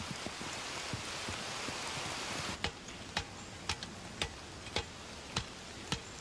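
Steady rain falling in a field position, a dense, quiet hiss throughout, joined in the second half by sharp, regular ticking drops about every half second.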